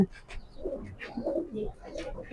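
Racer pigeons coo nearby in low, throaty bursts that rise and fall in uneven pulses.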